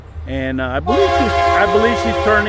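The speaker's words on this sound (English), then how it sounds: "Sorry about that. That was the train that's passing by." Loud horn blasts from a passing train, two short honks followed by a longer sustained blare, close and prominent while someone talks over it.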